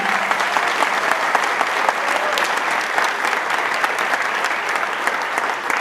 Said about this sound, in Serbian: za to poseban aplauz zaslužuje naš predsjednik